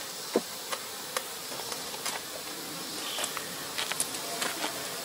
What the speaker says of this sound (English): we got a lot of bees on the bottom of that box right there